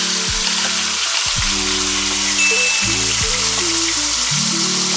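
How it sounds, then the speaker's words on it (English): A chuck roast searing in hot avocado oil, giving a loud, continuous sizzle with low tonal hum bands shifting underneath throughout. "So let's go ahead and now put that roast down."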